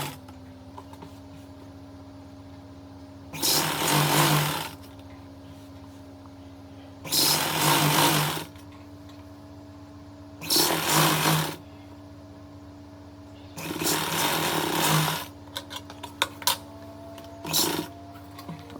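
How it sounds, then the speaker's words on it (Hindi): A sewing machine stitches lace onto a lehenga in five short bursts of close, whirring clatter, separated by pauses where only a low steady motor hum remains. "और अब हम इसके ऊपर एक बार एक सिलाई लगाएंगे।"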